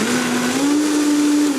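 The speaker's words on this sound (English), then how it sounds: "you're working your blender, but if you overload it, especially with the nuts, then you'll burn your blender out" A blender whirs loudly and steadily as it purees coconut and nuts into yogurt, with a sustained motor tone and no voices.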